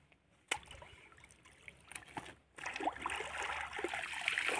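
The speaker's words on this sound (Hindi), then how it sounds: "मीठे पानी में जल्दी से कपड़े धुलाई हो जाते हैं।" Clothes washed by hand in fresh water, with soft trickling, sloshing and splashing that grows busier and louder in the second half, close by and without speech.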